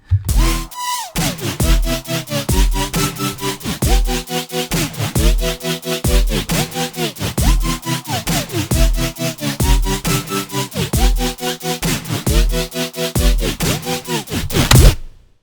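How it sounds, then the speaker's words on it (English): Lush future bass chords built on a Serum synth, sounding as a loud, steady run of rhythmic stabbed chord hits with rich harmonics, pumping in a regular pattern for about fifteen seconds before cutting off abruptly. "how to make these beautiful, absolutely perfect future bass chords, and this is what they sound like"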